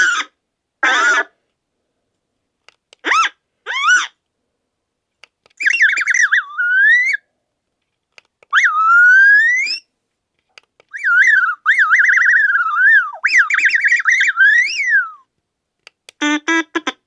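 Electronic chirps, warbles and whistling beeps from a Star Wars Mouse Droid RC toy's speaker, in several short separate bursts with pauses, fairly loud and close, with no talk.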